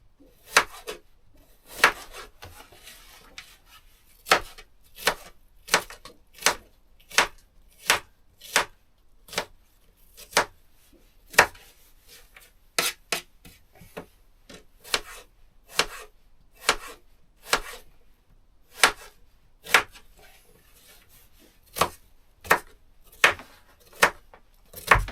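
Knife chopping vegetables on a board beside a wood-burning stove, a steady run of sharp, close, evenly spaced chops going on for a long stretch with no talking.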